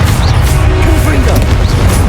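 A Confringo explosive spell blast from the Hogwarts Legacy video game: a brief, loud, rumbling boom with a crashing edge, heard within busy battle noise.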